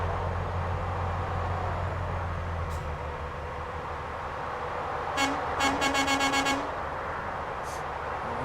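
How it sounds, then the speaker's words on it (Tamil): A truck horn blares in Euro Truck Simulator 2, with a short toot followed by a longer series of rapid honks over steady engine rumble. "இந்த ஹார்ன் நல்லா இருக்குல்ல? சவுண்ட் நல்லா இருக்கு."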